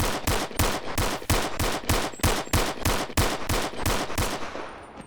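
Rapid pistol shots from a VP9 in the VR game Bonelab ring out in a fast, evenly spaced string of about fifteen loud, sharp cracks, each trailing a short echo before the last one fades.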